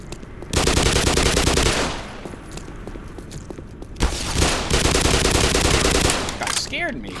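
A weapon in the video game Black Mesa fires in long, continuous bursts, loud and rapid, with a brief dip between volleys and a louder second burst near the end.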